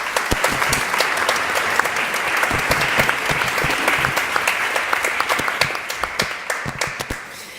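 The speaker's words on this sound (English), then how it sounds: "I think we should give them all some applause." Audience at a Royal Swedish Ballet opening-night artist talk applauds the ballet artists, a full, steady crowd of clapping that thins into scattered individual claps toward the end, with no speech.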